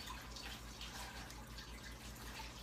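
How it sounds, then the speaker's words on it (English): Hot water runs from a kitchen tap in a steady, fairly quiet rushing stream that continues unbroken, without any voices. "Turn the hot water on."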